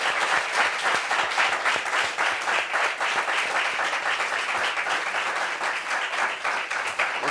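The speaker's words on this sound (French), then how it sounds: "Ovation pour lui, s'il vous plaît." Audience applause for a guest introduced on a stage show, dense steady clapping from a crowd throughout, loud and continuous without pauses.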